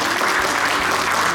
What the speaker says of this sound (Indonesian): Ayo sekali lagi tepuk tangan yang keras-keras.